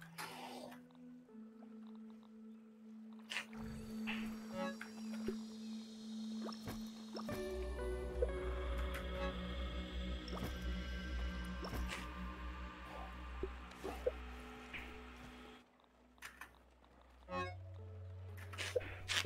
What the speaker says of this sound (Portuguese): Pra eu só repor minha água.